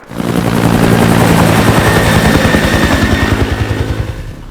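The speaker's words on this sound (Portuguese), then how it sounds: "um helicóptero aparece naquele momento" A loud helicopter roars in close, its rotor thumping in a fast steady rhythm that dominates the whole clip.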